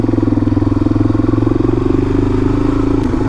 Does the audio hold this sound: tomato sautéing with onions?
no